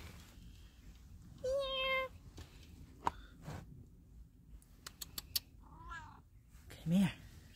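A domestic cat meows a few times, short close calls spaced out across a quiet rural setting with low background noise, and a person speaks softly between them.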